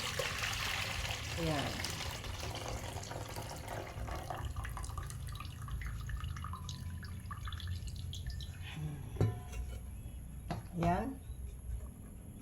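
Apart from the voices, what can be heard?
hot water draining from blanched bitter gourd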